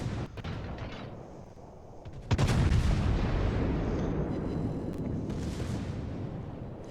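Secondary guns on a warship in World of Warships fire in a dense, rumbling barrage, with a sharp heavy blast about two seconds in and then a sustained roar of overlapping shots that tails off slightly toward the end.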